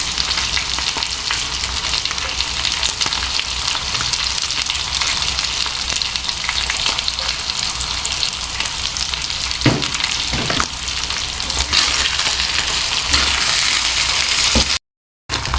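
Beef and vegetables stir-frying in a pan, a loud continuous sizzle with occasional stirring knocks, close up and without voices, then a sudden brief cut near the end.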